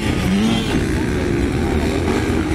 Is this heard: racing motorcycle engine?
yes